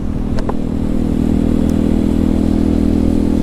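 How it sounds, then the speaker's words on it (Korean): A motorcycle idles steadily and fairly loud after being started in freezing winter weather, with a constant low rumble and a couple of brief clicks near the start, and no voices. "시즌 오프인데도 바이크의 시동을 켰습니다"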